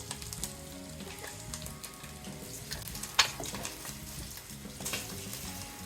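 Quail eggs fry in a pan with a steady, close crackling sizzle, broken by a few sharper pops and light stirring clinks, with no talking.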